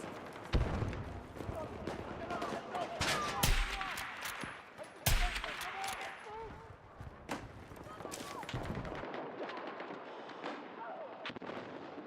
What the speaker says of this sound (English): Contact! Enemy machine gun.